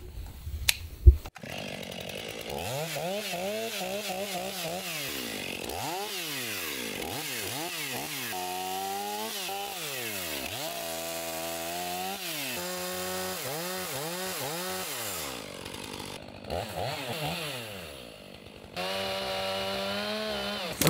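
Chainsaw cutting a tree trunk in a forest during mobile sawmill work, the engine revving up and down repeatedly in long, loud surges, with a few brief pauses and a sharp knock near the start.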